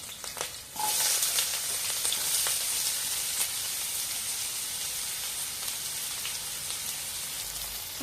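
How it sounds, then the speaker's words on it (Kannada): Long-sliced onions drop into hot oil in a pan and burst into a loud, steady crackling sizzle that holds evenly throughout, with a few light pops. "ಸ್ವಲ್ಪ ಫ್ರೈ ಮಾಡ್ಕೊಳ್ಳೋಣ"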